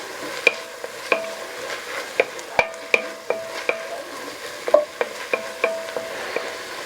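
Garlic cooks in a pot for a green chile pork stew. A faint sizzle runs beneath regular metallic taps and scrapes as a utensil stirs it, close by, with no one talking.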